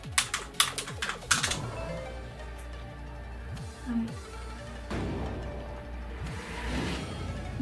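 Quick bursts of computer keyboard keystrokes in a Japanese word typing game, clustered near the start, followed by electronic game chimes and effects.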